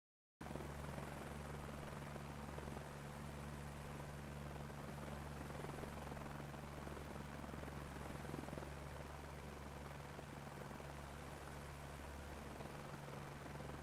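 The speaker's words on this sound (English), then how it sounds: "The chopper refuses to gain elevation." A helicopter in a video game drones steadily with a constant rotor whir and low engine hum, continuous and even throughout, with no talking over it.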